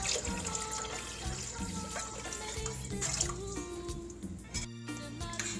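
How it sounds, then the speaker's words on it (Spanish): Water poured into a cooking pot holding tomato sauce, giving a continuous close splashing and gurgling pour with no talk. "Échale agua en la olla."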